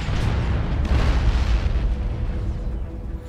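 Stick bomb grenades exploding in the video game Dawn of War 2, a dense, sustained roar of overlapping booms and bursts lasting the whole moment, loud and close with no speech.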